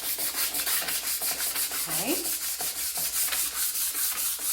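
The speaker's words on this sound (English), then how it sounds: "So I'm just lightly sanding it and it's going to help that spray paint adhere better." Sandpaper rubbing by hand over a glossy painted wooden furniture finish, light sanding before spray painting; steady rhythmic back-and-forth scratchy strokes close up, with one brief spoken word.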